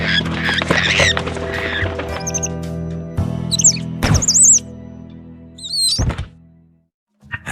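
Chirpy, warbling calls of a Malaysian parakeet in a video game, in short bursts at about two and four seconds and again near six, over a low hum, soft thuds and game sound effects.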